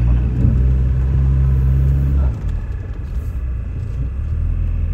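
A Volvo 940 Turbo engine pulling under boost, a loud, close, deep rumble that drones steadily, then drops in pitch and settles into a lower, rougher running note.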